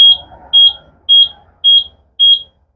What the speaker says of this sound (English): 5 beeps. That says it's a problem with the mag brake, right?